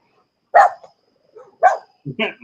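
A few separate barks sound close by, spaced out with silence between them, the last two coming in a quick pair.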